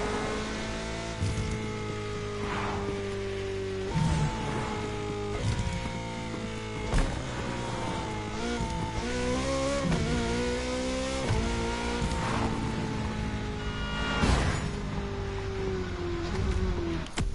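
An engine in The Crew Motorfest revs hard through repeated throttle sweeps with crackling exhaust pops between pulls, loud and close throughout, with a rising and falling pitch.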